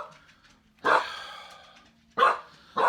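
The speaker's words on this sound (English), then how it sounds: "What are you barking at, Drew?" A dog named Drew barks indoors, three sharp close barks spaced apart, separated by quieter low whining or grumbling between them.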